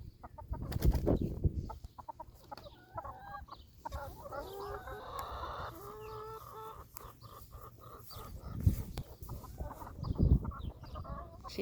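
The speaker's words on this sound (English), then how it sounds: "She's taking a dust bath." A hen on a West Texas homestead garden clucks in short bursts while taking a dust bath, with soft flapping and scuffling between louder calls near the start and end.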